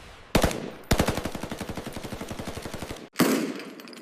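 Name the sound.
MG-42 machine gun firing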